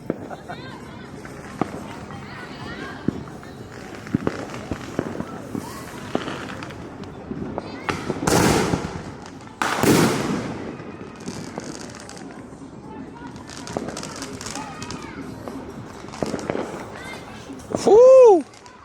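Fourth of July fireworks in Allentown, from a $22 firework box, pop and crackle in scattered sharp bursts with a few louder booms and a rising whistle near the end, while people talk and shout over the noise.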